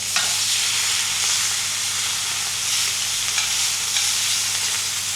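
Four steaks sizzle on an instant disposable BBQ grill, giving a loud, steady, close-up frying hiss that runs unbroken throughout with no talking.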